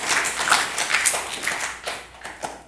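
An audience at a religious ceremony claps in uneven, overlapping bursts, fairly close and lively, with the applause thinning toward the end.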